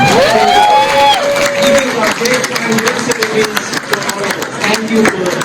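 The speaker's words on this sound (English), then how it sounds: "So please give them a round of applause." An audience at a business and government policymaker reception breaks into scattered applause, a dense patter of claps building and continuing while a voice talks over it.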